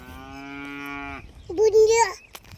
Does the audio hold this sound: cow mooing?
yes